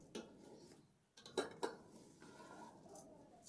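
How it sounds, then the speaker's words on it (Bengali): A spatula scrapes and clinks quietly against a pot while rice and spices are stirred for pilau, a faint, intermittent series of metallic knocks and rasping strokes with no voices. "নাড়ানি দিয়ে সুন্দরভাবে নাড়তে হবে যাতে মশলাগুলো ভালোভাবে মিশে যায়"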